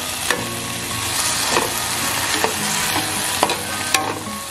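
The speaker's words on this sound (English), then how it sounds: "2 tablespoons of bagoong or shrimp paste. And then keep sauteing." Shrimp paste (bagoong) sizzles and crackles steadily in a hot pan while being sauteed, with a few sharp utensil clinks against the pan and no voices.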